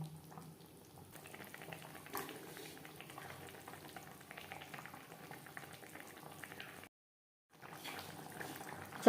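Brinjal and bhangor fish curry bubbling in a pot, a soft continuous simmer with faint stirring and sizzle, steady and close, broken by a short silent gap near the end.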